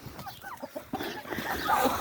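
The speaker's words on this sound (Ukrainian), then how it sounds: "Зима прийшла, а наші птахи купаються в снігу." Chickens cluck and squawk in snow, short bird calls scattered over the first second, then a denser burst of flapping and clucking that grows louder toward the end.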